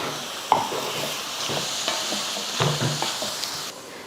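Soya chunks sizzle in a hot pan while a spoon stirs and scrapes repeatedly, quiet clinks and hissing frying throughout, with no talking.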